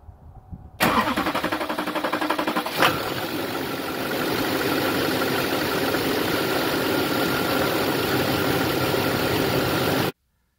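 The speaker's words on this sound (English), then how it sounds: "we'll fire up the truck and we'll take it for a ride" Truck engine fitted with a ported fuel fitting cranks and fires up, then settles into a steady, loud idle close by, running alone until it cuts off abruptly near the end.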